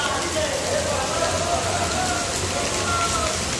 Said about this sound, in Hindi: बहुत तेज बरखा हो रही है